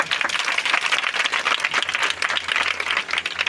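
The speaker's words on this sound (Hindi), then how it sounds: "उहदे वास्ते ताली मारो।" A church congregation claps together during a service, a dense, sustained wash of applause that holds steady across the whole moment without a break.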